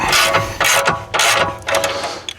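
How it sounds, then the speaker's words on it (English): A ratchet wrench tightens a bolt on the rear suspension arm of a 2016-on Volvo XC90 T8 with air suspension, giving four loud, close bursts of rapid clicking separated by short pauses. "So now I have the bolt going in, and I can tighten it in up"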